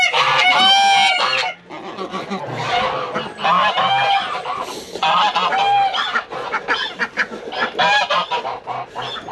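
A flock of geese honk loudly and repeatedly at close range, overlapping nasal calls in rapid bursts with only a brief lull near the start.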